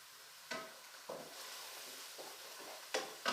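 Onion puree sautéing in oil over a medium flame, a soft steady sizzle punctuated by several louder bursts of stirring or spattering, close and without talk.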